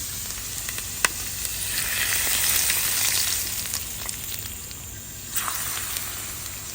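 Onions frying crisp in hot oil with large red chilies, for Hong Kong-style steamed pomfret, give a steady close sizzle with a sharp crackling pop near the start and another flare of spitting toward the end.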